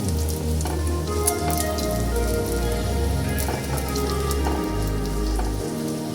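A paratha frying and puffing in a hot pan, a continuous close crackling sizzle with faint spatters over a low steady hum.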